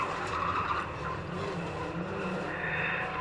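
Mitsubishi and Jeep racing cars contesting an arena race at Standlake, a steady distant engine drone mixed with crowd and track noise, sustained throughout without clear individual passes.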